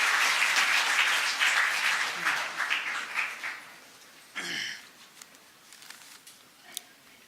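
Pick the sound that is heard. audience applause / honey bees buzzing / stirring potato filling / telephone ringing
audience applause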